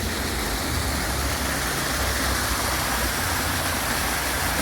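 A water feature in Parc de la Mediterrània, near Alicante, pours and splashes in a loud, steady, unbroken rush of running water close by.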